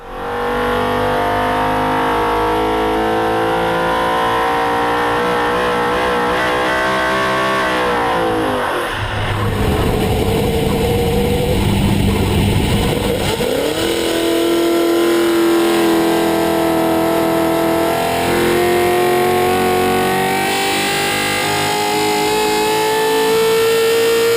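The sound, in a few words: 410 sprint car engine running on a dyno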